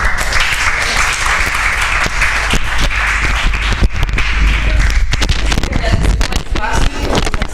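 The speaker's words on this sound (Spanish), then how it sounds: "Un aplauso." An audience at a gender inequality colloquium claps loudly and continuously, a dense spread of close handclaps with no talk.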